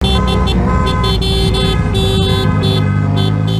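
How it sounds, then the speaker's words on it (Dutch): Car horns blare continuously and loudly at a wedding procession, overlapping honks layered over steady vehicle noise and a dense droning backdrop, with rhythmic bursts of higher tones throughout. "Lekker toeteren!"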